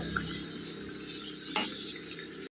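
Karanji pastries deep-frying in hot oil give a continuous bright sizzle and crackle, with a brief sharper pop midway. The sound is close and alone, with no talk.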